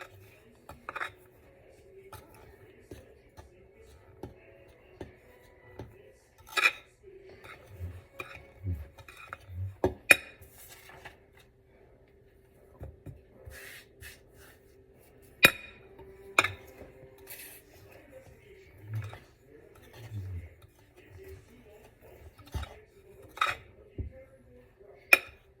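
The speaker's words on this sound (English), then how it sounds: "Now we're going to add in also the cocoa. And mix it nicely." Cocoa is mixed into mostaccioli dough in a bowl, giving scattered scraping, knocking and clinking of a utensil against the bowl in uneven bursts with quiet gaps, close and moderately soft.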